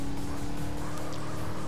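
Car drifting in the MTA video game, a continuous engine roar with tire noise, steady and close for a couple of seconds.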